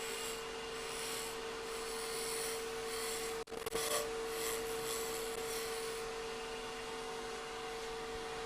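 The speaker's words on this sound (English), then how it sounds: "I'm going to scrape a little bit" A wooden sphere spinning on a lathe is scraped with a hand tool, giving a steady, close, raspy rubbing over a constant machine hum, with a brief break a little before midway before it resumes.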